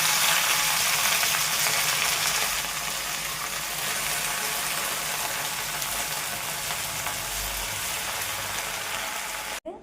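Gongura leaves fry in hot oil for a sesame gongura chutney, giving a dense, continuous close sizzle and crackle that holds steady for nearly ten seconds with no talking.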